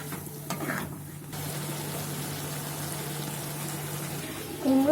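A Bengali pumpkin-stem chorchori simmers in a pan after a splash of water, a soft bubbling sizzle held at a steady level, with a faint hum and a brief clatter at the end.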